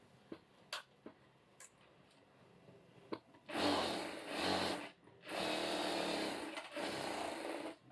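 A sewing machine stitching the neck of a blouse, first a few light clicks of adjustment, then three bursts of fast, steady motor-driven stitching separated by short pauses.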